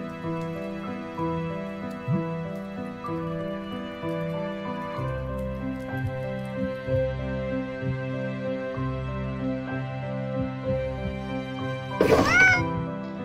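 Cat meowing in the video game Children of Silentown, one sharp meow near the end rising over a steady musical soundtrack.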